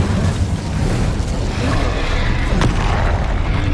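Spells cast in combat in the game Hogwarts Legacy: a loud, continuous booming magical rumble with bursts and a sharp crack near the end, dense and close, no speech.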